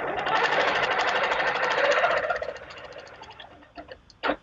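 Long arm quilting machine stitching along a template, a rapid rattling mechanical stitch that runs steadily for about two and a half seconds, then stops, followed by a few scattered knocks and clicks.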